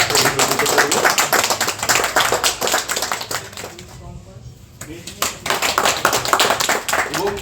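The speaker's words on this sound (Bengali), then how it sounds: "একটু হাততালি দিয়ে আমরা" An audience claps to welcome a woman guest at a Rakhi magazine herbal abir-making event in the Chak Dignagar sports village: dense, steady applause for most of the stretch, dipping briefly before swelling again, with voices mixed in.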